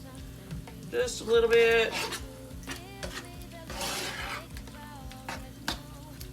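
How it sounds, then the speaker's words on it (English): Spoon stirring about two cups of shredded cheese with canned chicken in a skillet to melt it, a soft scraping and gentle sizzle beneath a steady hum, with a brief spoken remark over it. "stir this up so you can melt it"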